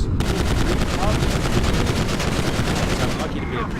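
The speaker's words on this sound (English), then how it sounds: "Machine guns!" Sustained machine-gun fire in Grand Theft Auto, set in Los Santos, a fast and unbroken stream of loud shots that runs for most of the stretch and then stops abruptly near the end.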